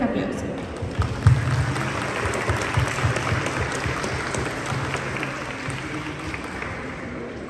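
An audience at a book presentation applauds an author with dense, sustained clapping from many people that holds steady and fades slightly toward the close, with a voice briefly audible underneath.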